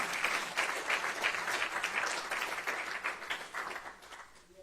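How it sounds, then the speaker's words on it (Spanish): A church congregation breaks into loud, sustained applause, dense clapping that holds steady and then tapers off toward the end. "Denle un aplauso fuerte al Señor."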